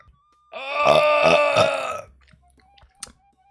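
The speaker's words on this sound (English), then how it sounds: "I might have been burping when I started my stream." A man burps as he begins a livestream, producing one long, loud, close, voiced belch lasting about a second and a half, with a few faint small noises afterward.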